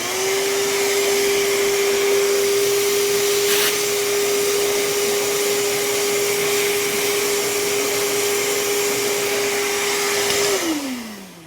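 A vacuum cleaner runs on an HRV core during maintenance, a loud steady motor whine that holds at one pitch for about ten seconds before spinning down at the end, with no voices.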